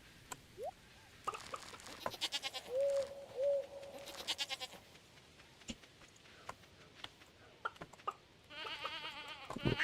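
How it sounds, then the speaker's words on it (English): Void goats in the farming video game Sword & Sorcery bleat several times in short, wavering cries. They are mixed with light ticks, clicks and a brighter game chime near the end, with no talking. "Let's say hi to our void goats."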